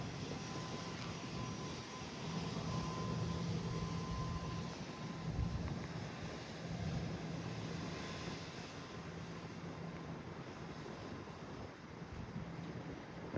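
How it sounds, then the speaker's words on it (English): An airliner taxiing to the full runway length gives a faint, steady engine whine and rumble from a distance, mixed with wind buffeting on the microphone. "It's going to taxi all the way to the full length"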